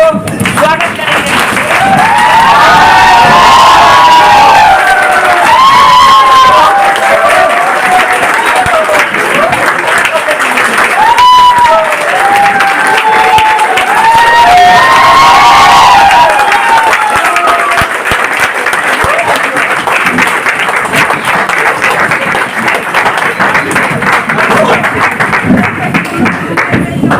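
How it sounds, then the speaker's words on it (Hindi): A standing audience gives loud, sustained applause to welcome the chief guest at an RCM business event in Ludhiana, with dense clapping and crowd noise, music-like tones and voices mixed in. "हम सभी लोग खड़े होकर एक बार जोरदार ताली के साथ मिस्टर अजय सर को स्वागत करेंगे"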